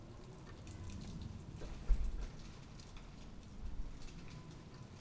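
Soft, steady rain patters outside, faint and distant, with occasional heavier drips and low thuds.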